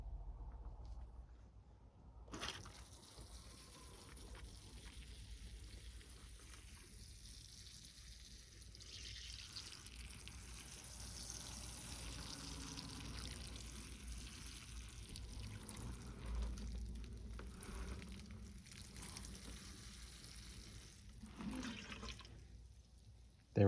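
Water poured over a freshly repotted Ficus microcarpa tiger bark bonsai, a steady splashing trickle that runs for about twenty seconds close up, with no talk.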